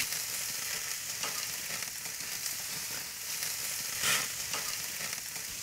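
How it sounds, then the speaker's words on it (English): Lamb chops frying in a hot pan on a grill, giving a steady close sizzle and crackle throughout with a brief louder flare of spitting fat near the end. "So once the chops are browned on the bottom,"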